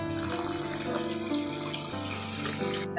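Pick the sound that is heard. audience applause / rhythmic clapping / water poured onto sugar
water poured onto sugar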